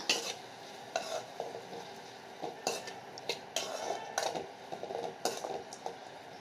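Curry leaves, onion and tomato sautéed for a potato kara kuzhambu, with a spoon scraping and clinking against the pan in repeated bursts over a soft, constant sizzle, close up.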